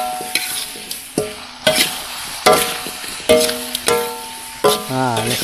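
Fish going into sambal in a frying pan over an outdoor forest hut fire, with a series of loud scraping stirs and bursts of sizzling every second or so, up close with no talk.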